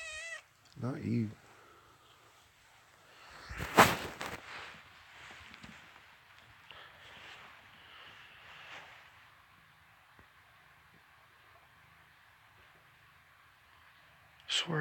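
A cat meows outdoors on a snowy hillside near a creek, a couple of short calls early and near the end, fairly faint and distant, with a louder thump in between and quiet rustling ambience.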